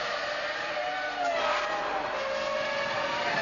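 A Jaguar Formula One race car drives a drying track, its high-pitched engine whine holding steady and rising slightly, heard at a moderate distance throughout.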